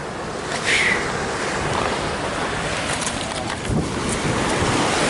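Wind and surf at a small beach cove near Fort Bragg on the California coast, a steady broad rush of waves and gusting wind noise filling the whole clip without pause.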